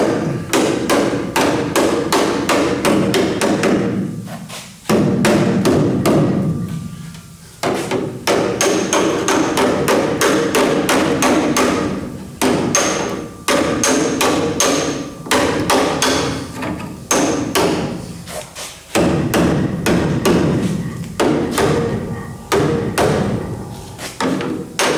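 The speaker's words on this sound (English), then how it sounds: "use a hammer and a dolly" Hammer and dolly flattening a dinged steel cab mount flange on an old truck under restoration: dense, rapid metallic hammer strikes, loud and close, in steady bursts with brief pauses between runs.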